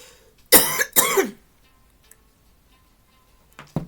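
Two sharp, loud coughs close together near the mic, followed by near silence and a faint throat sound at the end.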